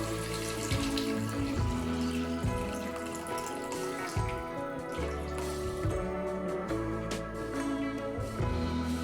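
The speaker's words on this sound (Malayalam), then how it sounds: "1/4 കിലോയ്ക്ക് ഞാൻ 1/2 ലിറ്റർ വെള്ളമാണ് ഇതിലേക്ക് ചേർക്കുന്നത്." Water is poured into a pot for making uppuma, a steady close splashing stream that continues for the whole stretch, with no talking.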